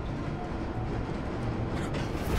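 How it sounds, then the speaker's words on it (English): A train in the Batman Telltale video game gives a steady, low rumbling roar of wheels and carriage noise that holds at an even level throughout, with no voices over it. "you're gonna blow up that train."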